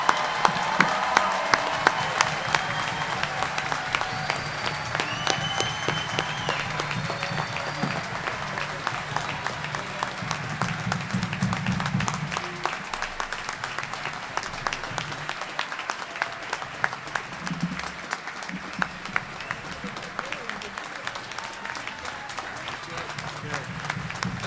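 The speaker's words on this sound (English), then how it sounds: "Please join me in giving all of our graduates a well-deserved round of applause." A crowd at a naval postgraduate school summer graduation ceremony applauds the graduates in a steady, sustained roar of clapping that lasts throughout. Faint voices sit beneath it.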